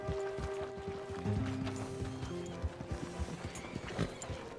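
Hoofbeats of a horse in Red Dead Redemption 2 clop at a walking pace, with a whinny mixed into the steady rhythm, against a background of game ambience.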